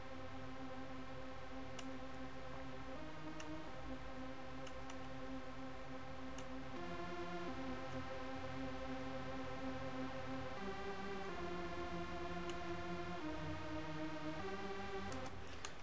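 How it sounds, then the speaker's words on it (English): Synth keys from an FL Studio beat, playing a steady, sustained chordal pattern with faint ticking percussion, even in level and without voices. "these are the keys for the thing, for the synth in the background"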